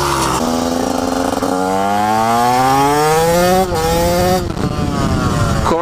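A loud 2017 TM SMR 125 motorcycle engine with an HGS exhaust and Scalvini silencer revs repeatedly, its pitch climbing and falling through several throttle sweeps, close and continuous throughout.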